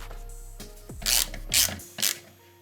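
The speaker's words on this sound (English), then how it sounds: "we're gonna throw our Torx screw back in here just to hold that thing together" A power driver runs a Torx screw back in during a Smart 451 HVAC blower replacement, with a low motor whir winding down and then three short bursts of bright grinding buzz, close and loud.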